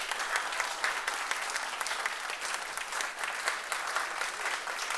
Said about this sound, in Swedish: Ändlösa applåder.